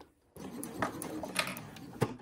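A sewing machine backstitches the end of a fabric tab on a fully lined boxy bag, running steadily with a dense mechanical whir and a few sharper clicks. It starts after a brief quiet moment and stays close and moderately loud.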